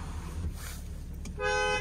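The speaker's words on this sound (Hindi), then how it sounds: "So perfect dual tone horn setup है इसका, काफ़ी लाउड हॉर्न है इसका।" A 2023 BMW 6 Series GT's dual-tone horn sounds once, loud and close, in a short steady blast near the end after some faint background noise.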